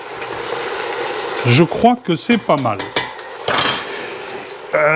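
Onions simmering in a pan, with a gentle bubbling sizzle under close metallic clinks and scrapes of a utensil stirring against the pan, loud and near, and a voice speaking partway through.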